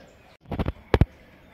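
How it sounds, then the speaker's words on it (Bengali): Macaw parrots call at the Padmaja Naidu Himalayan Zoological Park in Darjeeling, with a short raspy cluster of cries followed by two sharp, loud squawks in quick succession, standing out from quiet surroundings. "এই যে ম্যাকাও, খেলাধুলা চলছে।"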